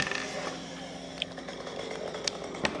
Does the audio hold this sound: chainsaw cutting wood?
yes